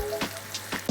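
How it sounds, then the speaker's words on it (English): Chopped garlic, asafoetida and Kashmiri red chilli powder sizzle in hot vegetable oil or ghee in a small pan, a short, close crackling fry with a couple of brighter pops and a stir. "In a small pan, add vegetable oil or ghee, and then add chopped up garlic, just a pinch of asafoetida, and Kashmiri red chilli powder."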